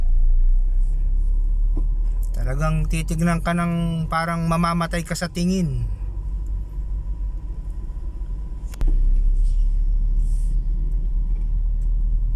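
Road traffic on a highway leading to Porac in the Philippines, heard from inside a moving vehicle as a steady low engine and road rumble, with someone talking over it for several seconds.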